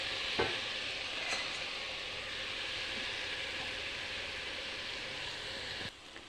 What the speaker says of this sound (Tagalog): halo-halo na natin ngayon